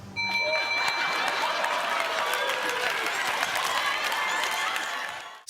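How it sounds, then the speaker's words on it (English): A game show studio audience breaks into sustained applause after a contestant's funny answer, a dense, even roar of clapping mixed with cheering that holds steady and then cuts off. "the audience thought it was so hilarious that they gave him a round of applause"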